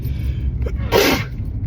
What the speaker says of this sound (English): I'm gonna sneeze so hard